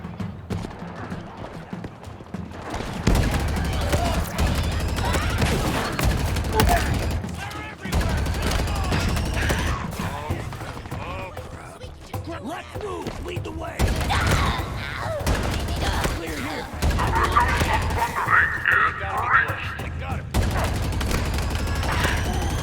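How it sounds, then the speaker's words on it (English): Rapid bursts of turret gunfire in the Halo Infinite video game, rattling in repeated loud volleys separated by brief pauses, with mechanical clatter in between and a player talking at times. "Turret battle."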